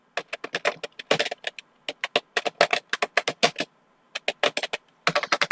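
Fast bursts of computer keyboard typing entering a Bangla caption in MS Access field properties, crisp close key clicks in quick runs separated by short pauses.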